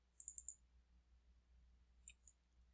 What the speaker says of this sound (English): you just click get link